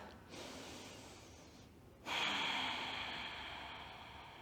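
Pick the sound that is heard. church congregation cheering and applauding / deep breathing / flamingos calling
deep breathing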